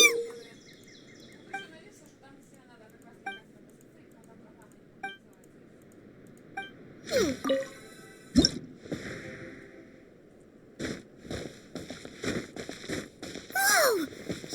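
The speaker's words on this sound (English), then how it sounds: "another water droplet just came out from the wall!" Water droplets in Genshin Impact trickle out of a wall with soft, sparse drips and squishy plops, mixed with chirpy game effects and occasional louder bursts.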